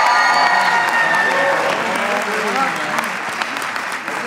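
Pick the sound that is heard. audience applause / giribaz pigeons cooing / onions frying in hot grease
audience applause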